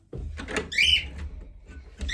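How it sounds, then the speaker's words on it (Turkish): A door being opened at home during a prize game, giving a short creaking squeak amid a few dull clunks and knocks at close range, with no talking. "Aç kapıyı."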